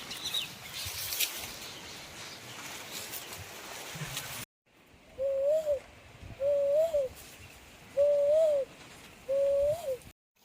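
A human voice imitating a wild bird call as a jungle warning signal at a guerrilla training park: four hooting, owl-like calls in a slow, evenly spaced series, fairly loud and close, after a stretch of outdoor noise.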